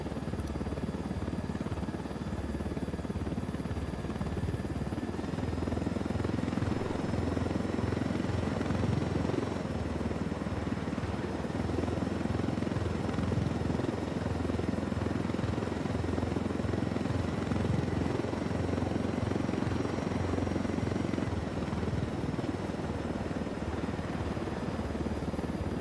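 A helicopter in the video game Ghost Recon Wildlands drones steadily with a continuous rotor and engine roar, loud and unbroken throughout, with no talking.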